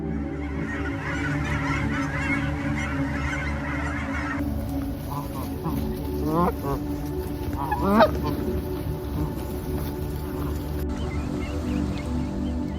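Wild geese honking in the countryside: scattered calls over a steady low drone, rising into a cluster of louder honks near the middle, moderately close.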